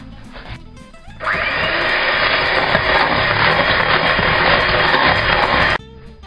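An electric mixer whirs loudly and steadily for about four and a half seconds, beating butter, sugar and egg into cake batter for a strawberry milkshake cream cake, starting and stopping abruptly with quieter kitchen sounds around it.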